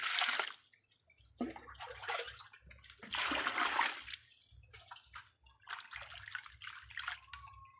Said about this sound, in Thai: ล้างหลายๆน้ำเลยเด้อ จนให้ขี้มันออกเบิดให้มันสะอาดแลลว